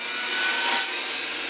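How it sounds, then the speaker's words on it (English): A table saw rips wooden panels to size, a loud steady whine and rush of blade through wood that eases off toward the end of the brief cut. "so I take them over to the table saw and move the fence over so that it's just slightly bigger than the box. Now I can get these panels ripped down to size."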